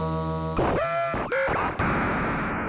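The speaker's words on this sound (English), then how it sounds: "there's a unique noise in Oscillator 2 that's called chaos" Chaos noise from the second oscillator of the Reason 13 synth plays alone as harsh, jittery digital noise, broken into short bursts with abrupt pitched glides and sudden cuts.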